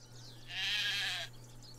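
A single sheep bleats in the video game Craft The World, a short, wavering, nasal call lasting under a second that stands alone over a quiet, low background hum.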